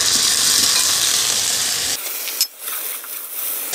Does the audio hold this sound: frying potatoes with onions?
yes